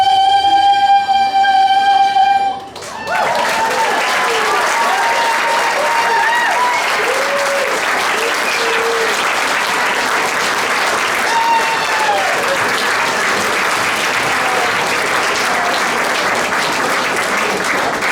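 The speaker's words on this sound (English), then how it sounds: "Another round of applause." Sustained applause from an audience after a senior chorus performance, breaking in right as the last sung notes end and continuing steadily, dense and close, for the rest of the stretch.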